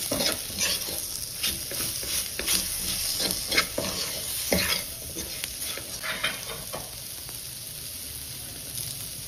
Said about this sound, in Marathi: आता टोमॅटो 1 मिनिट भाजून झालं